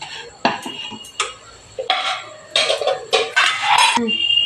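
Metal spatula scraping a cooked ripe banana and jaggery burfi mixture out of a pan onto a plate, a run of close, loud clattering scrapes and knocks that come in bursts.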